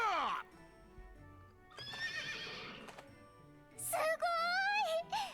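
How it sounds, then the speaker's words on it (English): Horses in the Brigandine video game, with a loud whinny at the start, hoof clip-clop in the middle, and a long high neigh near the end, heard alone between game sounds. "Grados loves to ride the horses."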